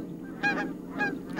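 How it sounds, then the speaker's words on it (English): A pair of Canada geese honking boisterously as they fly off over a still marsh, two bursts of loud nasal calls close by. "A pair of Canada geese flies off, honking boisterously and disturbing the stillness of the marsh."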